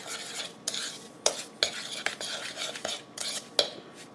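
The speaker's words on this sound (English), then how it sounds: "now you just mix up the dry ingredients in a bowl" Cornmeal, baking powder, baking soda and salt being mixed in a bowl, with a utensil scraping and clinking against the sides in an irregular stirring rhythm, close and clear without talk.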